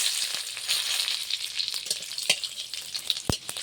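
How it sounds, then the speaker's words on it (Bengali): Dry red chillies, bay leaf and panch phoron spluttering in hot oil in a kadai: a steady bright sizzle with scattered crackles and a couple of sharp pops, close and continuous, with no voices. "এখন আমি ফোড়নে দিয়ে দেবো শুকনো লঙ্কা, তেজপাতা, পাঁচ ফোড়ন।"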